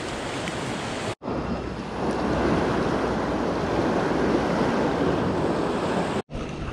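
Fast-flowing river water on a trout stream rushes loudly and continuously in a dense, steady roar, broken by two brief dropouts.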